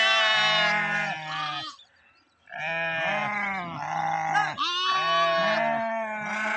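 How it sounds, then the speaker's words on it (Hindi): A flock of sheep being herded by shepherds bleats loudly and close by, with overlapping calls in bursts, a brief pause in the middle, then more bleats. "भेड़ों की आवाज़ हम लोग सुन सकते हैं, देखिए।"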